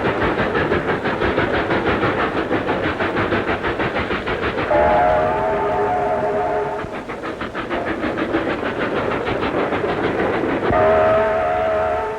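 A steam train pulls out of a Sydney railway yard on the New South Wales Government Railways, chuffing loudly and steadily with rhythmic clanking while a whistle sounds twice, close and continuous.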